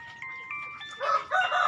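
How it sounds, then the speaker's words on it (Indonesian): A rooster crows loudly and close by in a free-range flock of five hens and one cock, a drawn-out call rising at the end, with hens murmuring faintly beneath it. "5 babon dan 1 pacek."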